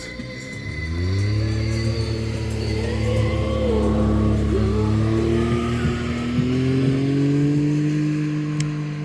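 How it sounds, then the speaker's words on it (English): Noisy ATVs ride near a wheat field, their engines rising and revving in a steady, fairly close drone that holds for several seconds with no talk. "you get guys riding very noisy, I think they're called ATVs"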